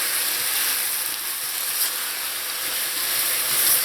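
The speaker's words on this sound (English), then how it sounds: "Now I'm going to leave this here to fry up in this sugar for about 5 minutes" Pigtail pieces frying in caramelized sugar in a pot for Trinidad-style pelau, giving a steady, bright sizzling hiss that holds even throughout with no talking.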